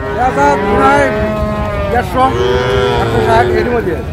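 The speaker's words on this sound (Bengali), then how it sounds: "দেখছিলাম এখানে বেশ সুন্দর গরুগুলো, ষাঁড় বাচ্চা ফ্রিজিয়ানের" Friesian and crossbreed bull calves and cattle at a livestock market moo loudly and close by in long, drawn-out calls, two or three overlapping bellows, with faint crowd noise beneath.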